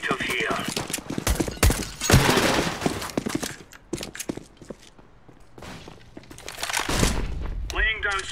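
Gunfire in the shooter CS:GO, several sharp shots and bursts in the first seconds and again near the end, with in-game footsteps and clatter between them.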